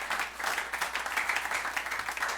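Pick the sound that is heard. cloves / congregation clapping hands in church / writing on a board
congregation clapping hands in church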